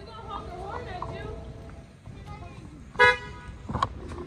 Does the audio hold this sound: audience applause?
no